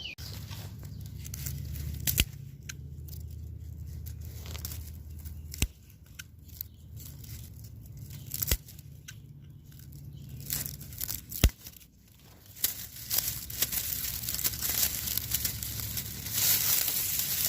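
Shears snip and tear through a dry miscanthus ornamental grass clump, with repeated crisp cuts, rustling stalks and sharp clicks close by.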